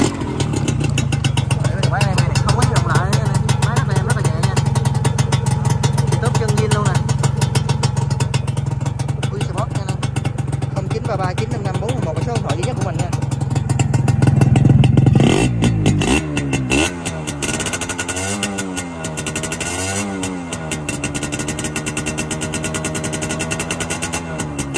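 A Yamaha Yaz 125 motorcycle engine, fitted with a luggage rack, idles steadily with a low throb, then revs up around the middle and settles into rising and falling throttle blips, with a person talking over it.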